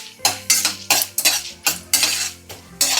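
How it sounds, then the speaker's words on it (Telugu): Mustard seeds, chana dal, urad dal and cumin sizzle in hot oil in a clay pot, with repeated sharp spoon scrapes and stirring clatters every half second or so over a steady crackle, close and loud. "ఇప్పుడు నేను ఆవాలు, శనగపప్పు, మినపప్పు వేసుకుంటున్నాను."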